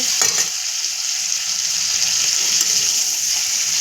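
Chicken paturi masala with a green chili being sautéed in a pan, giving a steady close sizzle and hiss with light stirring scrapes throughout.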